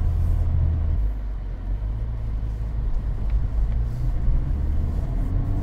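A Honda Civic Type R FK8 drives along in comfort mode, a steady low engine and road rumble filling the cabin with no break, moderately loud and even.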